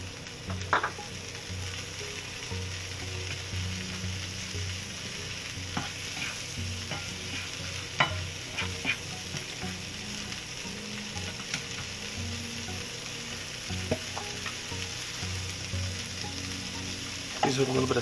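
Onions frying in butter or margarine in a pan, a steady low sizzle with scattered clicks and scrapes of stirring, close and moderately quiet.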